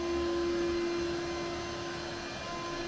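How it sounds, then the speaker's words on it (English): Vacuum cleaner running steadily up close while sucking up chips, a loud continuous whine with a strong steady hum and no break over the whole stretch. "Vacuum it like this, okay?"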